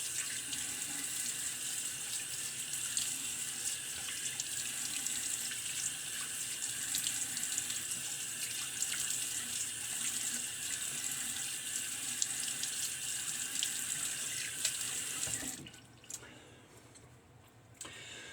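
A tap runs steadily into a sink while a vintage razor is rinsed, a loud continuous gush that cuts off near the end and leaves a quieter room with a few faint clicks.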